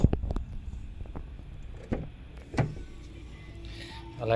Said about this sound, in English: Electric windows in the rear.